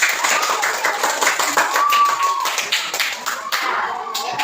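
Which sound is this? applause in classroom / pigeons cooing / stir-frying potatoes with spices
applause in classroom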